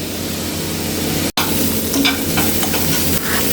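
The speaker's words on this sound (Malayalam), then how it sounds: "നന്നായിട്ട് നമുക്കിതിങ്ങനെ ഇളക്കിയിട്ട് വേവിച്ച് എടുക്കാം." Vegetables with carrot being stirred and sautéed in a hot pan, a steady loud sizzle with scraping stir strokes running throughout, briefly cut off once near the middle.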